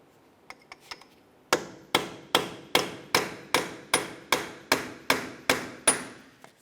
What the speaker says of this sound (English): we're going to come right in the center with a punch and a hammer